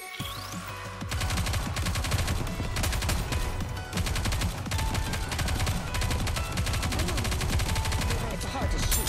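Rapid bursts of gunfire from the video game NIKKE, loud and continuous volleys with machine-gun rattle that run almost without pause for several seconds.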